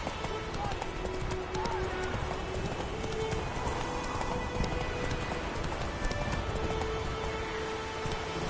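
Horse hooves galloping in The Witcher 3, a rapid rhythmic clip-clop under continuous game ambience, with a voice calling out.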